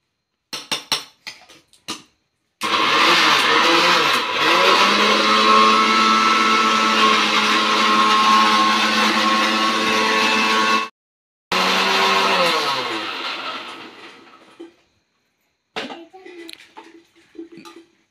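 A blender whirs loudly and steadily for about eight seconds as it grinds spinach fine for palak paneer in a small jar, stops briefly, then runs again more quietly, with clinks of utensils before and after.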